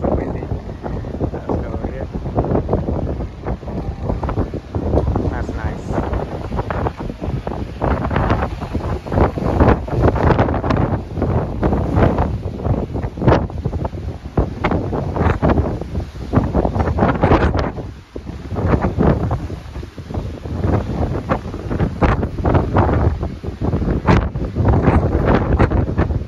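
Strong wind roars across the open deck of the Norwegian Bliss cruise ship on an Alaska voyage, loud, gusty and continuous as it buffets the microphone, with occasional voices faintly underneath.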